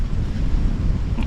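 Strong wind buffets the microphone on a blustery shore, a continuous low roaring rumble that fills the whole short moment, close and loud with no voices.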